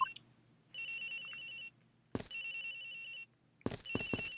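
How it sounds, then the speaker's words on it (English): A phone rings in the video game Miles Edgeworth Investigations, three bursts of an electronic ringtone separated by short pauses, each broken up by brief game blips, fairly quiet and with no talk. "Agent Hicks' phone! It's ringing from somewhere, sir!"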